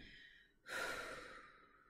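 A strong diaphragmatic exhale, a steady breathy rush of air that starts abruptly partway through and fades slowly, close and alone with no talk.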